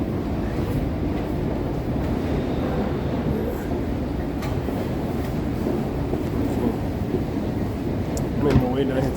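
Continuous low rumble of a train rolling along, with faint clattering and a brief metallic squeak near the end.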